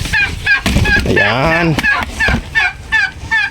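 Bourbon Red turkeys of breeder size gobble in a series of close, loud rattling calls, with a person speaking briefly among them.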